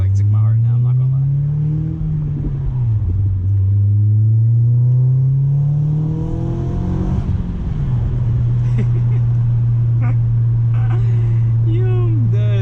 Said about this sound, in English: That extra turbo noise is so weird.